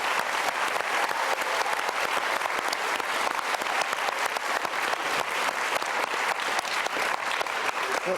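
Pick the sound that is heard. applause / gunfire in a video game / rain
applause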